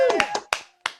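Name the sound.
audience clapping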